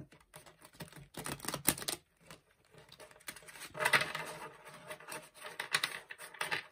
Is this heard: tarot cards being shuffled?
yes